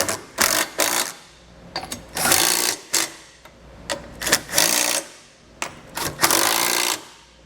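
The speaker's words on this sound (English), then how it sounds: "come back with a 13 millimeter socket and snug everything down" Socket wrench with a 13 mm socket snugging down bolts on a Stealth Hitches hidden rack receiver on a 2021 Volkswagen, in an X pattern; repeated bursts of fast ratcheting clicks, close and loud, separated by short pauses.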